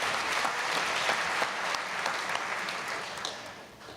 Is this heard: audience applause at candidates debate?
yes